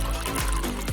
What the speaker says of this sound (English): The vortex allows for the air to flow back into the bottle as the water pours out, much faster than the glugging alternative.